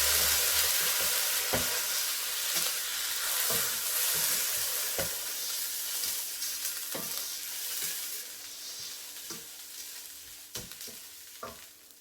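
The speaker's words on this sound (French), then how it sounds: "Bon, on continue de remuer." Risotto with chestnuts and pumpkin being stirred in a pan, with white vinegar just added to the rice: a steady soft sizzle runs throughout, broken by irregular scraping stirs of the spoon, close by and without speech.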